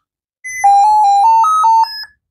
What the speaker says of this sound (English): it should definitely beep.